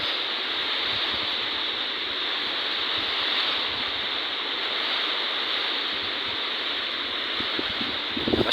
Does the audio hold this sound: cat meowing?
no